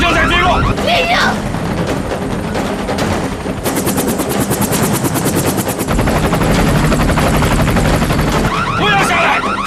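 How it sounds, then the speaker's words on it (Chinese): Military aircraft with a failed engine going down, a loud continuous rotor-like thrum with rapid rhythmic pulsing throughout, mixed with bursts of gunfire and a voice speaking over the din. "我的引擎失灵了"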